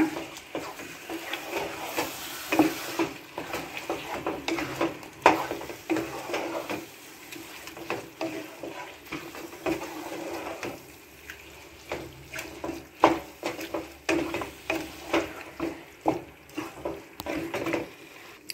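Curd being stirred into pepper chicken gravy in a pan, wet sloshing and scraping continuing steadily throughout at a moderate, close level with no speech.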